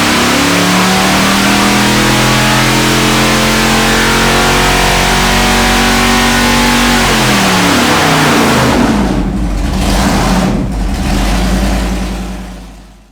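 A 454 big block Chevy with a small cam and EFI roars loudly on a dyno, the engine climbing steadily in pitch through a long pull before dropping and surging again, then fading at the end.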